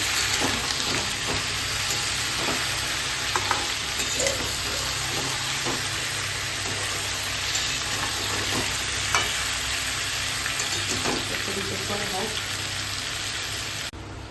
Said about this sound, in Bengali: ভালো করে নেড়ে চেড়ে দিচ্ছি।